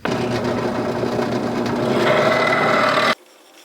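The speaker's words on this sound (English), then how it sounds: "don't you love a nicely threaded hole? It's like magic, man, threading holes." A close, continuous metallic grinding and rasping as a tap cuts threads into a drilled hole on a bicycle brake part, running about three seconds and then stopping abruptly.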